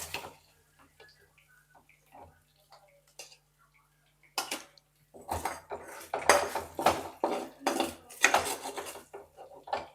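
Cooked chicken being moved into another bowl with utensils, starting with quiet scattered clinks, then a run of loud, rapid metal-on-bowl scrapes and clatters close up.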